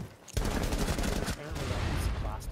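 Rapid gunfire from the Rainbow Six Siege video game, a dense continuous burst of shots lasting the whole stretch after a brief quiet start, loud and close with possible voice mixed in.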